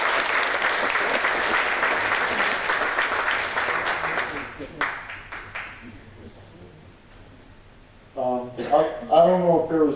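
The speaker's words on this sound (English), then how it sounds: "we give them a round of applause for winning this" Sustained applause from a banquet crowd at a chamber of commerce awards gala, dense and steady for about five seconds, then thinning out and fading before a voice begins speaking.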